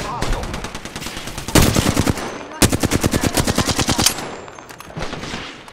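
Rapid bursts of automatic enemy gunfire in Apex Legends, loud and close, with dense rattling volleys in two main stretches and lighter scattered shots between and after.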